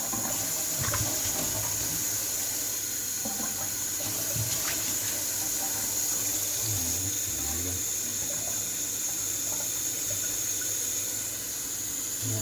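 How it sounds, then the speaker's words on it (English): Water runs steadily from a kitchen tap while a drinking bowl is emptied and refilled with fresh water, a continuous hissing flow with faint handling clatter. "I'll change the water, put fresh water."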